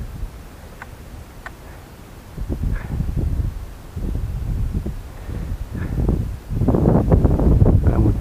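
Wind buffets the microphone outdoors during a small drone flight, with low rumbling gusts that come and go and grow stronger toward the end, along with a few faint ticks.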